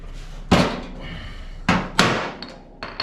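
A hammer strikes a dolly against the sheet-metal fender of a 1982 Dodge Ramcharger during a fender slice-and-splice repair, giving about five sharp metallic clanks at uneven intervals, each ringing briefly, with no voice over them.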